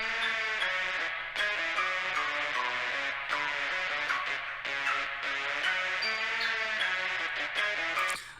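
Festival trap party lead stacked with a trap lead synth, playing a bright layered melody in short rhythmic phrases with sustained chords underneath, loud and continuous with no talking.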